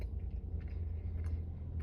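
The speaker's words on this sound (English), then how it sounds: "I have to do a lot of chewing" Close, steady chewing of hard, dried Trader Joe's salami resembling a shriveled jerky stick, with moist crunching and squishing bites repeating alone for about two seconds.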